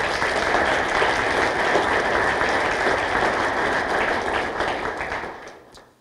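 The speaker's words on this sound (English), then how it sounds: "Let's give them another round of applause" A large crowd at a police retirement celebration applauds in a dense, sustained roar of clapping that holds steady for several seconds, then tapers off toward the end.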